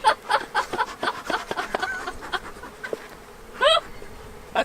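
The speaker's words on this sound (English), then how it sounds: "Look at all those bees." Honey bees swarm around an opened hive, their buzz running beneath close, excited voices and laughter, with a short rising squeal near the end.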